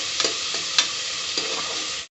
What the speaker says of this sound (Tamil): இப்போ நல்லா வதங்கிருச்சு வெங்காயம்